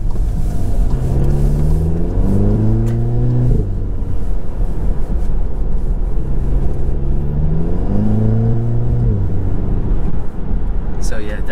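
An MK7 VW Golf R fitted with a BMS pedal tuner accelerates from a stop, its engine rising twice through the gears as a steady rumble under ongoing in-car talk.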